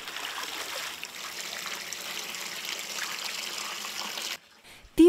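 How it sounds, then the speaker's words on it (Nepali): Moringa leaves being rinsed in salted and then clean water, a steady close trickle and splash of running water that stops abruptly near the end, followed by a brief bump of handling. "पात टिपेर पहिले नुन पानीले पखालिन्छ। त्यसपछि सफा पानीले पखालिन्छ।"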